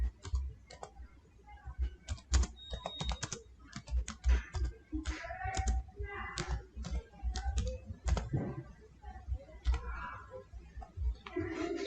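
Steady typing on a computer keyboard, a dense run of close, crisp key clicks with irregular rhythm and occasional louder keystrokes over about twelve seconds, no voice.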